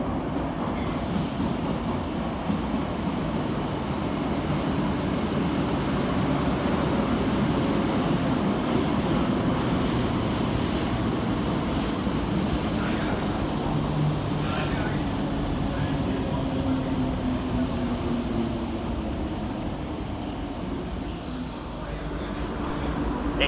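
ScotRail class 320, 316 and 318 electric trains rumble steadily through Glasgow Queen Street station, a continuous broadband roar with squealing tones drifting across, close and loud throughout.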